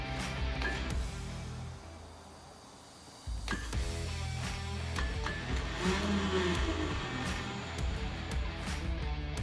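A buggy's starter motor spinning without engaging the engine, a steady mechanical whir that drops out briefly near the start and then resumes, running continuously and fairly loud with a clanking rattle.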